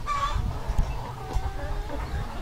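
Chickens on a small poultry farm of 50 to 100 birds cluck and call close by, with a higher squawk near the start over a low background hum.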